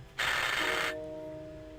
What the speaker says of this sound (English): It's gotta be the buzzer.